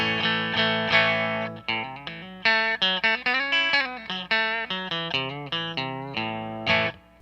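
Distorted Fender American Professional Stratocaster with rosewood neck, volume knob rolled down from 8 to 2, playing a chordal riff with quick changes and some bends, moderately loud with a slightly softened, rounded tone.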